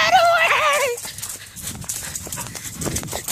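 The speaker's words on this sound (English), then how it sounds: "it's just my neighbor's dog, Max." A neighbor's dog gives a high, wavering whimper for about a second, then quieter scuffling and snuffling noises follow, with some voices mixed in.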